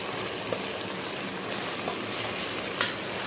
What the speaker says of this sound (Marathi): तर ह्याला थोडंसं फ्राय करायचं आहे आपल्याला